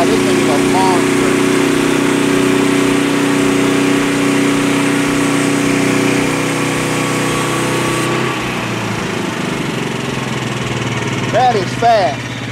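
A Frontier OS23 sawmill driven by a 14 horsepower engine runs a Turbo 7 Wood-Mizer blade through a roughly 16-inch cut of red oak without fluid. It gives a steady, loud engine drone and cutting whine that eases near the end, with someone talking over it.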